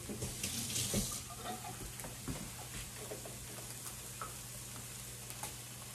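Tap water runs steadily while something is rinsed under it in a home kitchen during venison stroganoff preparation, a soft continuous splashing hiss that is close and fairly quiet.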